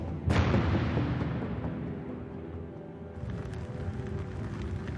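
WWI ship's deck gun firing, one sharp loud blast near the start followed by a long rumbling decay and lingering noise.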